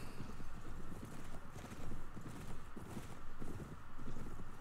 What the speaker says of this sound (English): You're riding one of their horses.